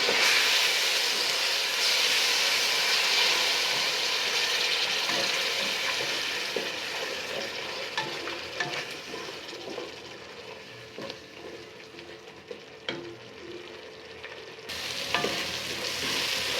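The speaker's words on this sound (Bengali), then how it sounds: "আমি এখন সামান্য একটু জল দিয়ে মশলাটাকে কষিয়ে নেব" Spice masala of ground coriander frying with a splash of water for goat head curry, a loud hissing sizzle that gradually settles into crackling with scattered scraping stirs and utensil clicks.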